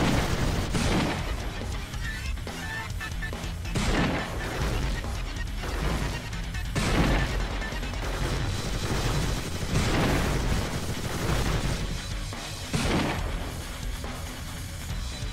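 Repeated heavy booming shotgun shots from combat robots in the Gladiabots arena game, loud blasts recurring every couple of seconds over a continuous noisy battle background.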